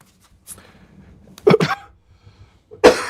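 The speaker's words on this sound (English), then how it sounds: "Sorry, I've had this cough for forever." A man coughs close by in a few sharp bursts: a faint one, then a quick double cough, and a final hard one near the end, with quiet between them.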